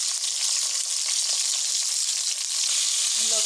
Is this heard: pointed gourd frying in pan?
yes